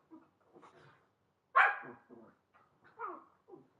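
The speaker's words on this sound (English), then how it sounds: "There's my dogs." Several dogs bark at a household distance, a scattered run of short barks and yips with one louder bark standing out, no talking over them.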